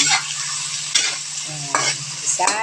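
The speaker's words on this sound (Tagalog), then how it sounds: "Ito po, magigisa tayo ngayon ng pechay." Pechay sautéing with tomatoes in a pan, a steady close sizzle broken by a few sharp stirring scrapes and clinks of the utensil against the pan.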